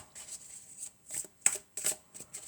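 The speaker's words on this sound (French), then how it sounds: "Alors on a 3 cartes, on va mélanger encore." Oracle cards being shuffled in a short series of crisp riffling bursts separated by brief pauses, close and fairly quiet, with no talking.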